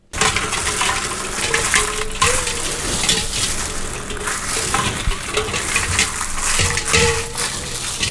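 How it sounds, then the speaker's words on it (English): Fresh homemade butter being rinsed in water, with close sloshing, squelching and splashing that runs steadily with uneven bursts, no talk. "All we're doing is giving it a rinse off in there."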